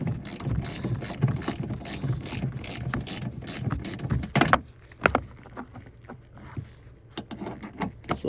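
Ratchet wrench clicking as it loosens a rear seat belt bolt in a tight spot inside a Nissan truck, a dense run of quick, close mechanical ticks over the first few seconds, then sparser clicks.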